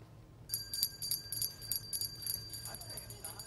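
Hand bell ringing at a Salvation Army red kettle holiday donation drive, a steady run of bright metallic jingles at moderate distance over low background hum, no talk.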